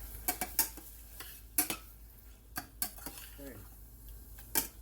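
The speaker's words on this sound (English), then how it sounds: "And then just stir it, mix it up real good." A spoon clinks and scrapes against a pot while turmeric and spices are stirred, with sharp irregular knocks and a brief bit of voice in between.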